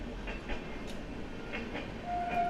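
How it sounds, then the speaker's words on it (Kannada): A passenger train rumbles past at a moderate distance, a steady low rolling noise with faint rhythmic clatter building slightly toward the end. "ಪ್ಯಾಸೆಂಜರ್ ಗಾಡಿ ನೋಡ್ರಿ ಅದು"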